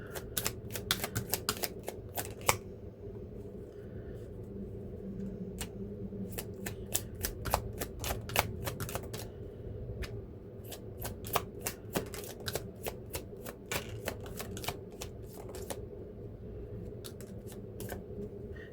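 Tarot cards are shuffled over and over in a rapid, crisp, riffling flutter, with sharp bursts of snapping card edges that continue steadily throughout.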